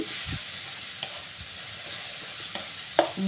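A turmeric and cumin spice paste fries in a pan with a soft, low sizzle and hiss, punctuated by a few sharp spoon scrapes and taps; no voices.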